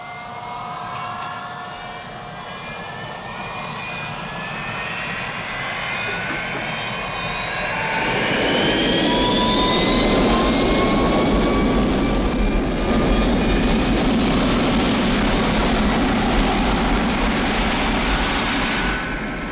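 A Vulcan bomber flies past, its engine roar building from a distant hum into a loud, broad rumble around the middle and staying heavy to the end. A rising whine sweeps through as it draws near, with no voices.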